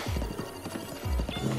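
Horse galloping in Zelda: Breath of the Wild, a steady run of low hoof thumps with clip-clop beats close by, over game music and ambience.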